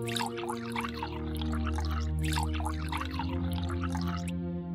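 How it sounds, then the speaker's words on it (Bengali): A cartoon sound effect of water being sprinkled, a steady run of dripping, splashing liquid over a sustained musical drone, ending abruptly. "পানি ছিটানো হয়ে গেছে,"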